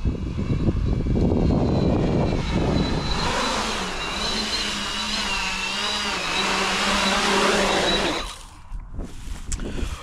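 A 12S beast class racing drone makes full throttle passes, its high-pitched motor whine loud and steady with pitch bending as it swoops close, then dropping away sharply near the end.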